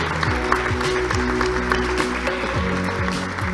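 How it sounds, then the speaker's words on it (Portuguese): Applause from a forum audience for the debaters at a retail and marketing event, a steady wash of clapping mixed with music underneath, running evenly throughout. "Eu queria pedir uma grande salva de palmas para os nossos debatedores"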